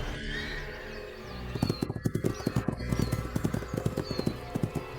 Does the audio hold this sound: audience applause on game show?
no